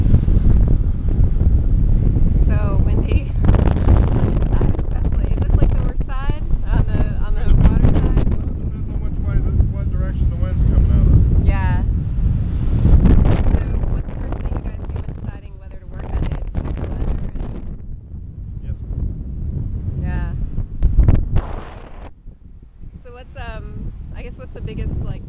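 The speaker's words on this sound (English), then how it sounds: "So windy. This side especially." Strong wind buffets the microphone in heavy, constant gusts atop the towers of Ponce Hall at Flagler College during restoration work, with people talking intermittently underneath.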